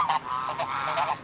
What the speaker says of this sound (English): It's the only one in the country that uses geese as guard dogs.